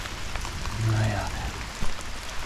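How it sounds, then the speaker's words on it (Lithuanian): Heavy rain pours onto a lake during a fishing trip, a dense, steady hiss of drops with a low rumble, and someone speaks briefly over it. "Vėl lyja. Kaip iš kibiro"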